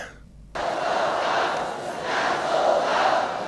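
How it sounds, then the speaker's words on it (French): A frenzied arena crowd at a kickboxing fight roars and chants a fighter's name, a dense, loud wall of voices that surges in after a brief quiet start and swells and ebbs. "La foule en délire commence à crier au nom de leur dieu blanc."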